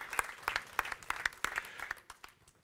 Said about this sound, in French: on peut les encourager, on peut les applaudir